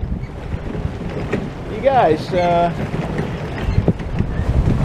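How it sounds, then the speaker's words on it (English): Wind gusts buffet the microphone outdoors at a lake, a rough low rumble running throughout while people talk briefly partway through. "it's pretty windy out here, so I don't know how it's gonna come out."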